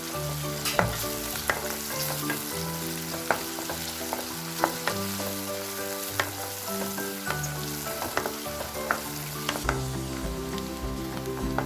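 Steady sizzling of onions and curry leaves sautéing in a pan, with occasional scraping stirs, under a layer of tuneful background music.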